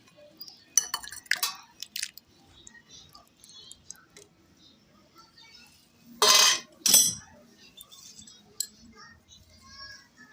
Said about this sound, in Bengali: এবার নামিয়ে নিচ্ছি, ঢেলে নিচ্ছি এটার মধ্যে।